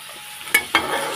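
Onion and chili hitting hot oil in a pan, two quick sizzling bursts over a low steady frying hiss, close and fairly loud.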